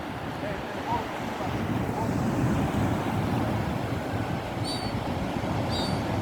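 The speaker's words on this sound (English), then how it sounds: "Ocean." Ocean waves wash steadily onto a beach beneath gusty wind, a continuous close roar of surf, with a few faint bird calls appearing near the end.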